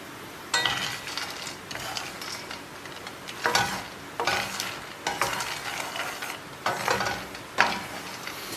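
Peanuts stirred in a spoonful of lard in a pan over low heat, giving repeated scraping, rattling sweeps in a loose rhythm over a faint sizzle.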